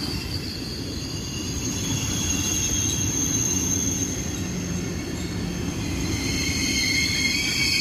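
A normal ICE 4 train rolls through Würzburg Hbf, a steady loud rumble of wheels on rails with a high sustained squeal riding on top, continuous and close with no talking.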